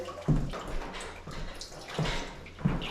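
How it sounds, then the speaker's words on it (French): Water forced through an airless paint spray gun during a leak test on a passive-house build, heard as three short, fairly loud hissing, splashing spurts with quieter spray noise between them. "Je vais envoyer de l'eau dans le pistolet pour voir déjà si c'est étanche"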